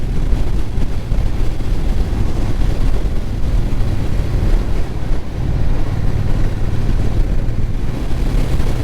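Wind roars past a rider on a 2025 Triumph Bonneville T120 motorcycle on a quiet road, a loud, continuous rushing buffet blended with low engine rumble.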